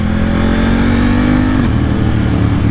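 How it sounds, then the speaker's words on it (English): A KTM 890 Duke R and an MV Agusta Brutale Dragster 800 rev together, a loud, close, continuous engine roar with a pitch that holds steady and then drops, no voices. "between these two motorcycles, it's like a symphony of sound"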